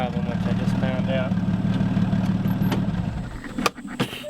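A car engine with a faulty ECU, rigged to keep running, idles with a steady, close mechanical hum, then stumbles near the end with a few knocks and clunks as people talk over it.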